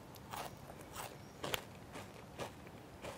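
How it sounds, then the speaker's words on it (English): Quiet, crisp crunches of a flaky coconut cookie being bitten and chewed, several soft crackling bites spaced out over a few seconds, close up. "Just listen to this crunchy flakiness."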